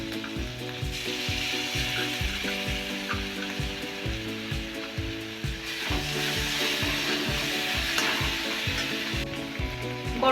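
Spice masala with sour yogurt and Kashmiri chili frying in oil for an aloo potol curry, a continuous close sizzle broken by regular scraping strokes of a spatula stirring the pan.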